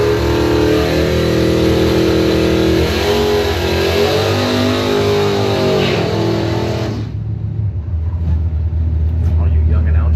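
A 1971 Chevrolet Camaro drag racing engine roars loud and close, revving in a sustained howl for several seconds before cutting off abruptly, leaving a lower rumble and crowd noise.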